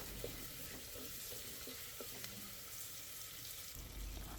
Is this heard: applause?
no